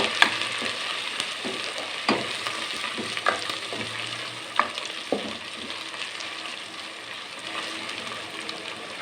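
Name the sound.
ginger garlic paste frying in hot oil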